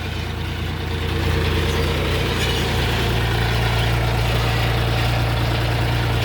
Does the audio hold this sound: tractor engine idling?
yes